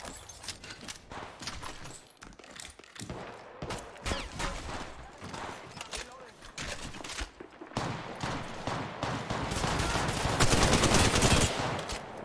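Rapid shotgun and other gunfire in the Apex Legends Mobile battle royale game crackles in dense, repeated bursts throughout, loud and close, with occasional players talking in between.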